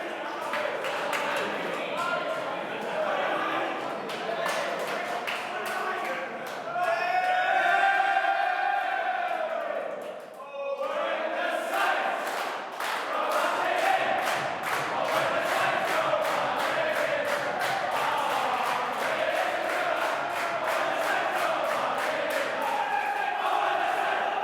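St Kilda AFL players sing their team song together in the rooms after a 2020 round 5 match against Carlton, a loud, echoing group chant with shouts and clapping, rising into rhythmic claps toward the end.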